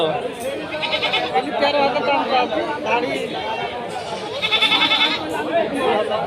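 Young castrated goats bleat at a livestock market in Rustampur, Rajshahi, their calls rising intermittently over steady crowd chatter and nearby talking voices.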